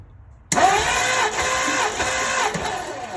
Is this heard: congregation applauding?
no